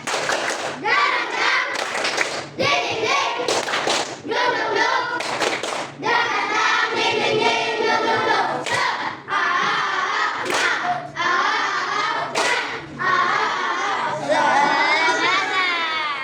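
Schoolchildren in an Indonesian classroom perform a rhythmic clapping cheer, loud patterned hand claps alternating with shouted chanting in unison, repeated in short bursts for about sixteen seconds.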